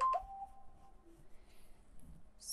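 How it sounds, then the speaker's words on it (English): A cell phone indoors gives off a few short electronic notification beeps near the start, sounding briefly and fairly quietly before fading into a low, quiet room background. "Sorry about those cell phone noises."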